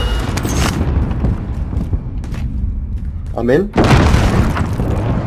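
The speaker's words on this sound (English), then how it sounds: "Enemy precision airstrike." Explosions from a precision airstrike in Call of Duty Warzone rumble as a heavy, sustained low boom beneath a player's excited talk, with a brief swooping whistle before a final blast.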